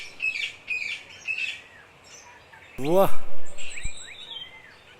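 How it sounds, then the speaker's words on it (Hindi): Chirps and tweets from a bird in a Hindi cartoon story, with three short repeated chirps, then a louder burst of calls, close and clear, as someone speaks briefly. "बहुत सुंदर है ये चिड़िया"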